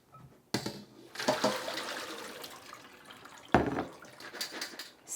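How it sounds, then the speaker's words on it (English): Chickpeas soaked for a day are poured with their water into a strainer: a sharp splashing pour starts, trickles on, then a second loud gush follows, ending in dripping. "So I'll pour it into my strainer so you'll see the size."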